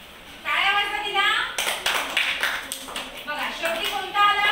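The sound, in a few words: children clapping for a classmate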